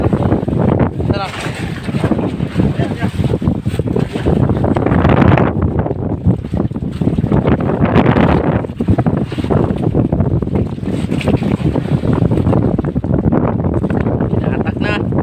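A strong northeast amihan wind at sea buffets a fishing boat, producing loud, continuous roaring gusts against the microphone with water and hull noise underneath and voices briefly mixed in.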